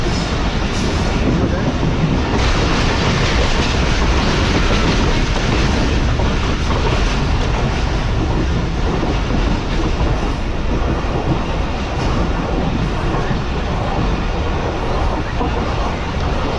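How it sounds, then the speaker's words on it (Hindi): The Karachi Express train rushes through Malir station in Karachi, a dense, continuous rumble of wheels and rattling carriages heard from on board, loud and unbroken throughout. "मली रेलवे स्टेशन को स्किप करने के लिए जा रही है ट्रेन हमारी।"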